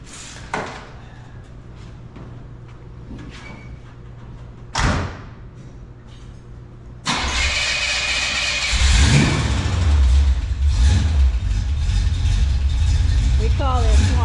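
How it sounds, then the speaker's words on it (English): A car door thuds, then a 1971 Buick Skylark muscle car engine fires up loud and rumbles with rising revs, deep and close, after quieter background noise. "Let's go drive a muscle car."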